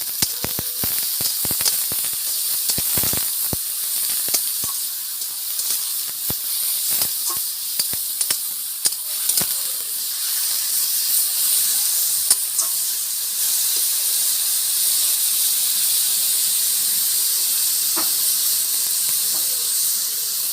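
Bottle gourd fries with bay leaf and whole cumin in a hot pan. Early on, a continuous hissing sizzle comes with scattered crackles and taps, then it settles into a smoother steady hiss.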